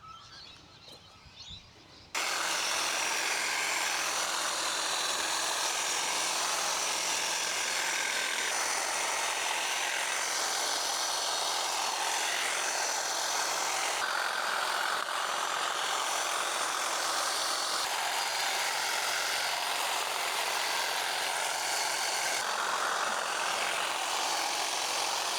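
A power tool cuts back an overgrown passion fruit vine in a garden, starting after a short quiet moment and then running as a constant loud buzzing noise for over twenty seconds.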